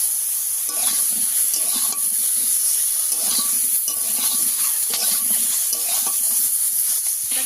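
Sliced ridge gourd with turmeric and salt sizzling steadily in a pan, with repeated scraping strokes of a spatula as it is stirred, close and continuous.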